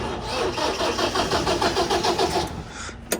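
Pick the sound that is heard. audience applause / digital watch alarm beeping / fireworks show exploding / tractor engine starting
tractor engine starting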